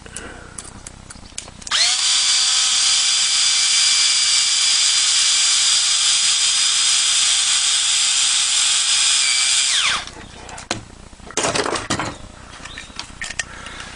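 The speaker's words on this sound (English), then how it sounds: "I'm going to use an electric screwdriver." An electric screwdriver drives screws into a joystick's main frame, giving one continuous close, high-pitched whir for about eight seconds, then a few short bursts.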